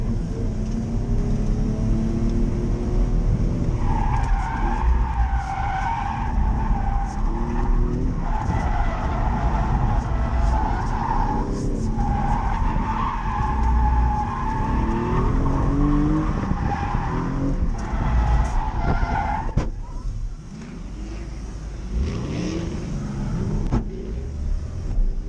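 A car drifts around a track on a novice's first drifting day, its engine roaring steadily while the tires squeal and skid in long sustained runs, loud and close throughout with no talk.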